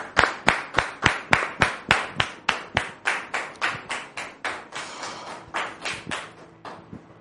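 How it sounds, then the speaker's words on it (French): Studio audience clapping in unison to welcome a guest onto a television talk show set, a steady rhythmic beat of sharp claps, about three per second, that loosens and thins near the end. "Merci de le recevoir sous vos applaudissements"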